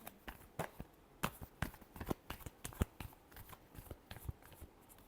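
Tarot cards are shuffled in quick riffling bursts, a string of sharp papery flicks and snaps close by, quiet and irregular with short pauses between.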